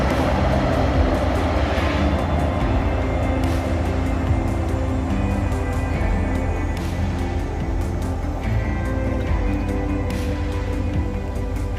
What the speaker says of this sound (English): There you can hear the train horn.